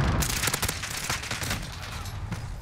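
Gunfire in a shooter game: rapid bursts of automatic shots in dense clusters, loud and close, with a faint background rumble and no clear speech.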